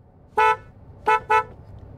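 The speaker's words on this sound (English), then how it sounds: "we're gonna start with a horn test" A Kia Telluride's horn honks three times: one short blast, a pause, then two quick toots close together, loud and near.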